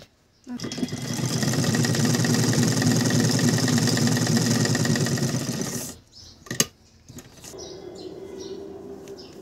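A sewing machine runs steadily for several seconds, stitching a fabric divider seam with a dense, even whir. It then stops abruptly, leaving a few brief clicks and quieter room sounds.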